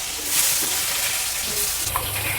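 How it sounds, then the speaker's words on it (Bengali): Water poured into hot, well-fried spiced masala for a cabbage and gram-flour kofta curry sets off a loud, steady sizzle and hiss that lasts for a couple of seconds, with no voices. "আমি এবার এতে অল্প পরিমাণে জল দেব।"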